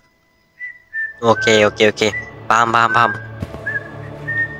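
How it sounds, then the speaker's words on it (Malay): A character whistles a series of short, bright melodic notes in the horror video game Horror Tale 3, close and clear over a soft game backdrop, with brief talk mixed in. "Sempat lagi kau mau whistle Bersiul."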